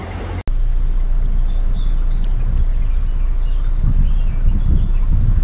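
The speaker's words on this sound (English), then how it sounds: "As you can hear, it's quite windy." Strong wind buffets the microphone aboard a canal boat under way between Welford Junction and Yelvertoft, a steady low roar broken by a sharp click at the start, with faint rustling and a soft engine drone beneath.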